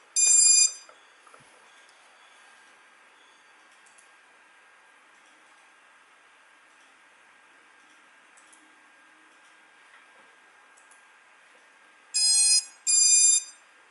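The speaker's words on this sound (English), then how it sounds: "Throttle warning." An Eachine Wizard X220 mini quadcopter gives a throttle warning: two bursts of shrill, harmonic electronic beeping, one at the start and a double burst near the end, separated by a long stretch of faint steady hum.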